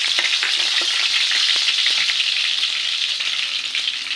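Garlic sizzling in hot cooking oil in a pan, a close, steady hiss of frying with faint crackles and occasional stirring scrapes, no voices.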